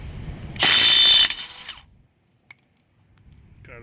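A Milwaukee 2563-20 compact impact wrench breaks a lug nut loose in a loud, rapid hammering burst of about a second, followed by a few softer rattles and a single short click alone.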